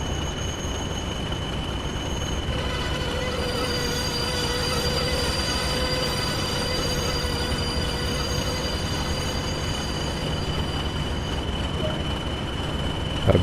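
A train braking in Train Sim World on the Tees Valley Line, with wheels squealing in sustained high tones over a constant loud rumble of rolling stock, lasting throughout.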